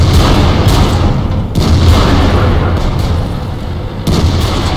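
World of Tanks battle with heavy, rumbling booms and continuous low-frequency artillery fire, loud and dense, with a few sharper impacts standing out over a constant roar.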